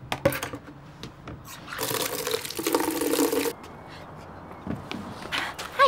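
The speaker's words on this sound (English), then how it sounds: "Oh, my taxi could really do it with a good wash." Water splashes and runs steadily over a toy taxi in a children's TV show, a loud rushing spray lasting a couple of seconds, with softer drips and movement before and after.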